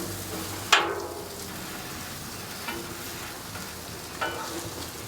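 Sausage patties fry on a Blackstone griddle, a steady soft sizzle running throughout, broken by a sharp scrape of a spatula near the start and two fainter metal scrapes later.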